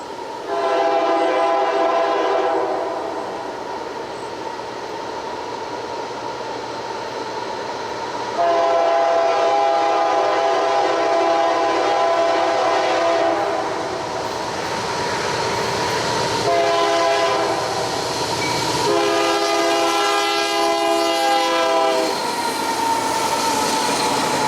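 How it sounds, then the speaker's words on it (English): A Union Pacific coke train on the Hinckley Sub rolls past with a newly painted KCS locomotive leading, sounding long, loud, sustained horn blasts in several sections over the steady rumble of the passing cars. "the unit in lead position was yet another newly painted locomotive"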